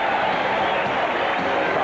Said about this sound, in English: And you get a big round of applause.